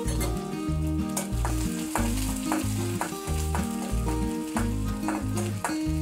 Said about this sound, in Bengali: তো এবার আমি দিয়ে দিচ্ছি কিছুটা রসুন, 1 টেবিল চামচ পরিমাণে রসুন কুচি।